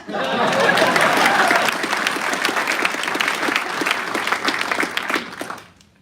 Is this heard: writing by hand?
no